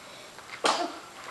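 A child sneezes once, a short sharp burst near the microphone in a quiet room, with faint background hiss before and after.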